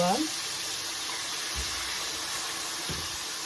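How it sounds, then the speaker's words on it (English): Fish frying in hot oil, smaller pieces added after the bigger ones for Ivorian attieke with fried fish; a steady, dense sizzle fills the whole stretch, with a couple of soft low knocks partway through. "then you put in the smaller ones if you have a lot of fishes to fry"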